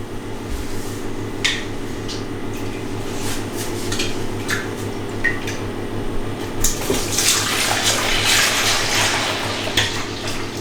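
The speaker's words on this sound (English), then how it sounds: "let's pour the rest in and see how much we've actually got here." Brewed pale ale wort pours steadily into a container with a continuous splashing gurgle, punctuated by a few clinks and knocks, growing busier toward the end.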